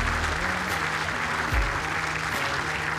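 A standing crowd at the World Indoor Bowls Championship applauds in a dense, steady roar of clapping that lasts throughout, with a voice faintly beneath.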